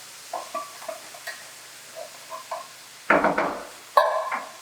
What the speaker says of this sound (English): Give that a good little mix.